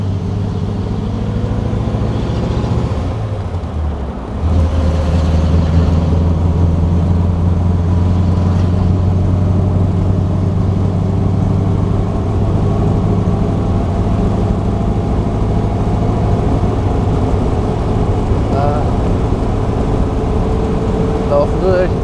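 The engine of a 1938 Horch 951 A Pullman Cabriolet runs steadily while the car is driven, a loud, continuous low drone that shifts briefly in pitch early on and then holds an even rumble throughout.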